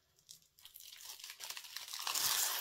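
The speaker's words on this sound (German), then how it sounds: "ich ziehe einmal hier oben die Schutzfolie ab." Protective film is peeled off a diamond painting canvas, giving a quiet, close crinkling and tearing that builds steadily over a couple of seconds.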